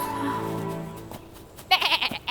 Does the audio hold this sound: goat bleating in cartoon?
yes